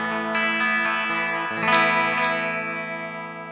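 Electric guitar through a Flamma FG200 multi-effect unit set to plate reverb: sustained chords struck a few times, ringing out with a smooth shimmering tail that slowly fades.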